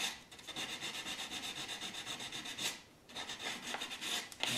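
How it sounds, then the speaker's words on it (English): A knotty pine cabinet door is sanded by hand, giving rhythmic back-and-forth rasping strokes that come close and steady, with a brief pause partway through and no talking. "a final sanding before we start finishing"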